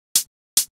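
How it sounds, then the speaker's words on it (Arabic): Two short, crisp hi-hat hits, bright and sizzling with a quick decay, evenly spaced and heard alone with silence between them. "ده صوت هاي هات طبيعي خالص"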